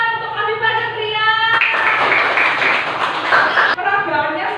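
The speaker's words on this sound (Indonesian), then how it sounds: "tepuk tangan untuk Afifah dan Ria" Classroom applause for two students after their presentation, a steady burst of clapping from a group of children and teachers that swells in the middle and then eases, with a voice sounding over it at the start.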